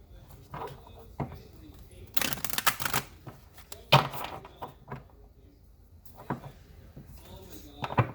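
Sacred Traveler Oracle cards are shuffled in a burst of papery riffling and slaps, with a loud flurry in the middle and scattered softer card taps around it, close to the microphone.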